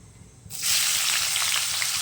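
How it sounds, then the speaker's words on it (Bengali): Potatoes hitting hot oil in a pan: near-silence, then a sudden loud sizzle half a second in that holds steady and close to the end, with no talk. "ভাবলাম একটু আলু ভেজে নিই"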